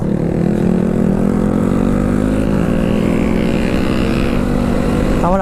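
A motorcycle engine revs hard on a wet hill road near Nilgiri and Thanchi in the Bangladesh hills, a loud, close, unbroken drone whose pitch climbs slowly.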